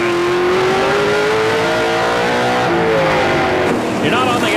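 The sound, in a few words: NASCAR stock car at full throttle on short track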